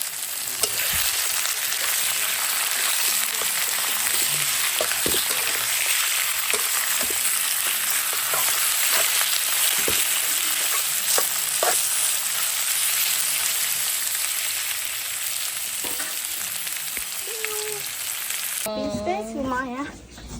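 Meat fries in a pan with a loud, dense sizzle that continues throughout, accompanied by scattered clicks and scrapes of stirring before a brief voice and clatter near the end.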